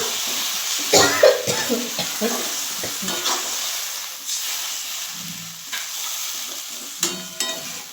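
Water splashed into a pan of frying flat beans and eggplant for a Bengali shim begun ghonto sets off a loud hissing sizzle, with close scraping stirs and a couple of sharper spatters.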